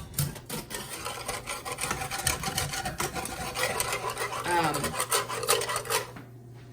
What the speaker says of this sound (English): whisk and just try to get those juicy bits up from the bottom.